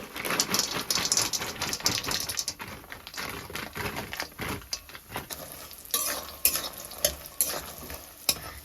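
Onions, green chilies, salt and turmeric fry and get stirred in a pan, with a continuous sizzle broken by scraping, clattering spatula strokes in uneven bursts, close and fairly loud, no talking.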